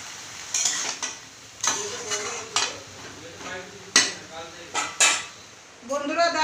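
Spices—chilli powder, turmeric, cumin powder and salt—being stir-fried in a pan, with a spatula scraping and clanking against the metal in irregular bursts over a soft sizzle.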